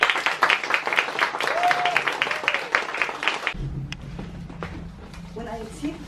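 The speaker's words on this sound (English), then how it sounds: "Give her a round of applause." An audience applauds a poet at an open mic for exiled writers, a dense burst of clapping that stops abruptly midway, after which a low hum and faint room noise remain.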